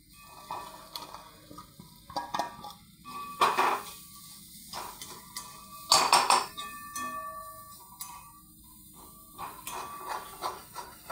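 Peas for Tipin-style vatana bhaji are tipped into a cooking pot, giving a series of metallic clinks and rattles against the vessel, with pronounced bursts around the middle and quieter scrapes between.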